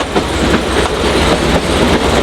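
A narrow-gauge train rolls steadily along the rails between Anaval and Waghai, a continuous loud rumble with faint rhythmic clacking of wheels over track joints.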